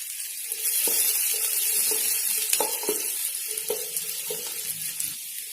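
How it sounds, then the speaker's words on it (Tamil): Chopped garlic sautés in sesame oil with a close crackling sizzle, under repeated knocks and scrapes of a spoon stirring in the pan, with no one talking. "அதை எண்ணெயில போட்டு வதக்கிக்கலாம்."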